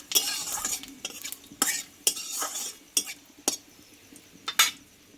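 A tempering of bay leaf, dried red chili, whole cumin and a cardamom pod frying in oil, heard as sharp, distinct spatula scrapes and clinks against the pan over a faint sizzle, close up with no voices.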